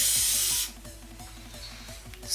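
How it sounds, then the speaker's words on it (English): A short burst of hairspray hisses loudly for about half a second, then stops, leaving quieter rustling and a brief final spritz. "Spray these curls into place so it can hold."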